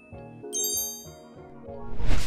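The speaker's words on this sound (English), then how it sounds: "Next up is the video doorbell." Video doorbell chime ringing a short melodic sequence of bright, clear tones, each note ringing with a sustained tail, close and clean with no talking, followed by a burst of broadband noise at the end.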